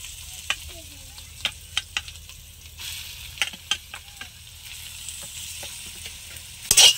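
A spoon scrapes and stirs ash gourd and lentils in a hot pan, several distinct knocks and scrapes over a faint sizzle of oil.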